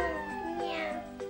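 A voice imitates a cat's meow, a short rising and falling cry with a slight siren-like wail, heard up close.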